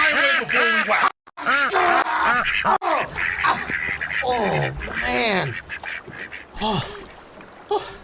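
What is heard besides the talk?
duck quacking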